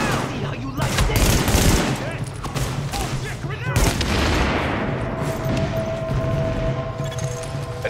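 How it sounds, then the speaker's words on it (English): Heavy gunfire from The Division video game, with rapid machine-gun bursts and overlapping shots, loud and nearly continuous, while a player talks over it. "Whoa, I'm getting shot at."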